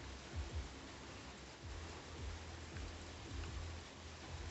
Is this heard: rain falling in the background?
yes